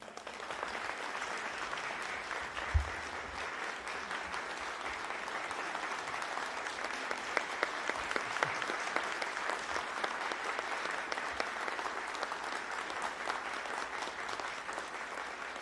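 A large audience applauds President Ferdinand Marcos Jr. as he is introduced as keynote speaker at a national ICT event, sustained crowd clapping that stays even and full from start to finish.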